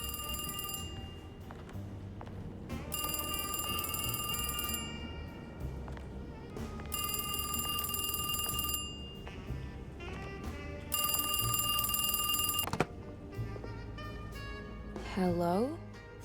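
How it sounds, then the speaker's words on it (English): A telephone rings in the video game Alone in the Dark (remake), with repeated bursts of a bright electronic ring separated by short pauses, loud over a busy in-game background with voices. "Phone's ringing. I'll get it."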